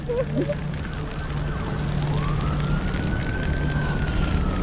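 A fire engine siren wails in a long rising sweep over steady rumbling background noise, sounding moderately distant, at a house fire.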